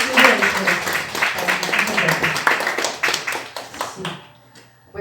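Audience at a bookstore book presentation applauding an author, a warm, dense burst of clapping close by that fades out over about four seconds, with a voice beginning to speak at the end.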